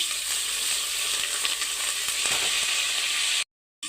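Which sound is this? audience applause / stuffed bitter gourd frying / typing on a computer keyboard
stuffed bitter gourd frying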